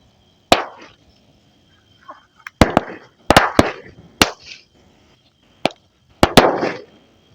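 Firecrackers burst at a Dussehra Ravana burning: about eight sharp, loud cracks in an irregular sequence, some in quick pairs, with short fizzing tails and quiet gaps between.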